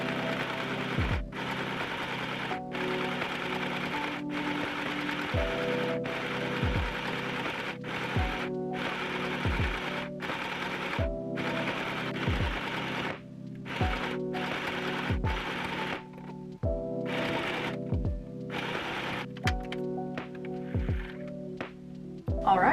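A sewing machine stitches a liner for a crochet bag in short bursts of rapid, rhythmic clatter separated by brief pauses, close and steady throughout.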